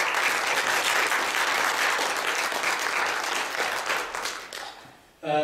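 A congregation applauds its worship director during a Thanksgiving Sunday praise service at a Korean church, a steady dense burst of clapping that fades out near the end.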